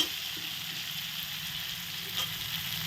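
Onions fry in a pan with a steady close hiss, broken by a few soft stirring scrapes.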